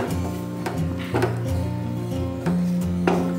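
A spoon stirring a milk candy mixture with butter in a pan, giving light scraping and tapping strokes against the metal at an irregular pace over a steady low hum, with no talking.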